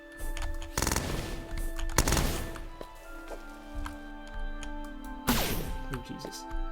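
Combat in the video game Starbound as Floran enemies attack: sharp bursts of gunfire-like impacts and thwacks over a steady game soundtrack, with a few loud hits spread across the stretch.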